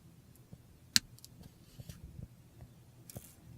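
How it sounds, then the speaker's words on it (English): A single sharp snip of wire cutters through thin jewelry wire while making whiskers earrings, close and brief, followed by faint handling clicks in a quiet room. "then you want to bend your wire 90 degrees and then cut it about 3/8 of an inch"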